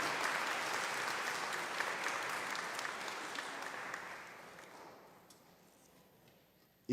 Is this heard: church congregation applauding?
yes